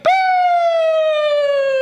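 Loud, close police car siren sounding a single sustained, slowly falling wail after a sharp onset, alone without talk.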